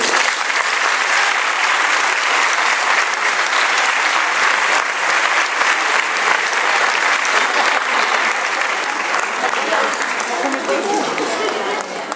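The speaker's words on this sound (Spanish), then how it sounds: "Recibímolos cun agradable aplauso." Steady, dense applause from a school audience at an end-of-year festival performance, loud and continuous for the whole stretch with a slight fade at the end.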